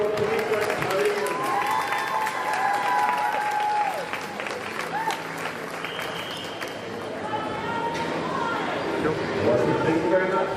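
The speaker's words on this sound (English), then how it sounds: "Ladies and gentlemen, one last round of applause for your Queensland podium." Applause and cheering from a crowd at a Queensland youth and junior lead climbing championship podium, sustained clapping mixed with chatter and voices across the venue.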